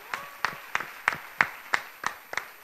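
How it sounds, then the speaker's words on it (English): Audience applauding a singer at an opera picnic event: about nine sharp, evenly spaced claps of moderate loudness, a thin, sparse smattering rather than a full ovation. "Another big round of applause."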